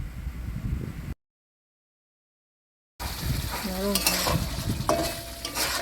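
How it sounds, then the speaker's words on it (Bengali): Chital fish curry in oil is stirred and fried in a pan, a sizzling scrape and bubble that cuts out briefly, then returns louder while someone talks over the cooking. "ভালো করে নাড়াচাড়া করে কষিয়ে নিচ্ছি।"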